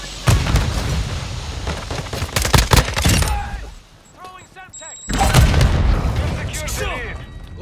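Gunfire erupts in Call of Duty: Modern Warfare II, with loud, close automatic bursts and booming shots in two heavy stretches separated by a quieter lull, while voices speak over the battle.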